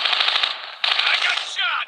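Loud, close automatic gunfire from the video game Call of Duty Warzone comes in two quick sustained bursts, followed by a short descending whine.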